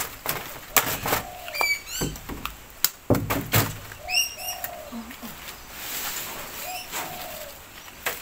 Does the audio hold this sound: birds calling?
yes